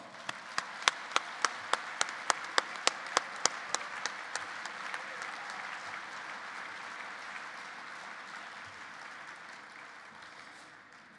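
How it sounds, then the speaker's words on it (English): At a tennis ball gala, an audience gives a round of applause: a few loud, sharp individual claps ring out over a steady crowd patter that gradually fades. "Please greet them with a round of applause."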